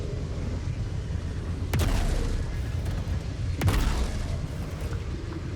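Ship guns of a Vanduul Stinger firing in Star Citizen, two sharp booming bursts a couple of seconds apart over a low continuous rumble, loud and punchy with ringing tails.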